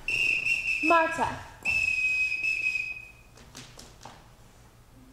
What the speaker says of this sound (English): I won't have to whistle for them